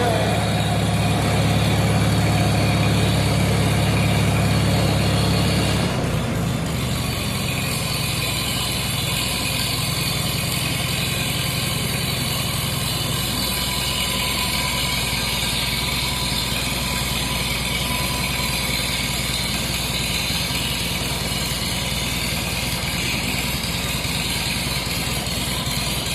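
A car engine runs steadily at idle, loud and close, with a brief change in pitch and load near the start before settling into an even, continuous rumble.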